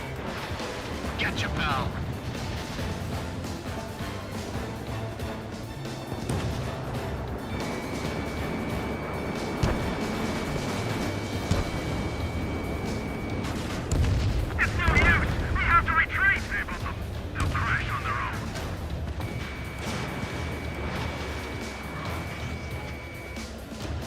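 Missile launch and explosions in the Ace Combat 7 flight combat video game, with a dense rumbling wash of blasts and booms beneath jet noise, swelling around the middle as voices talk over radio chatter.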